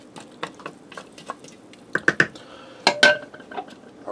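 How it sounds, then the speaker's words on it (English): A spoon scrapes and clinks against a pressure cooker pot while beef stew in broth is stirred, close up, with a quick uneven series of sharp metallic taps and soft liquid sloshes. "Let me give that a stir."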